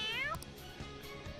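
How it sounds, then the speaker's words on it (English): Morgana, the cat character in the video game Persona 5, gives a near, drawn-out meow with rising and falling pitch, followed by faint game music and ambience. "apparently in this game they decided to make Morgana, the cat, very horny around treasure"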